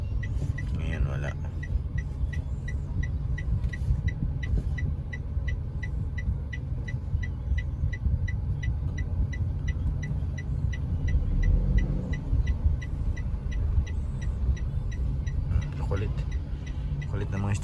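Steady road traffic with cars and motorized tricycles rumbles along continuously in a low, dense drone, with a faint regular ticking running through it and no clear talk.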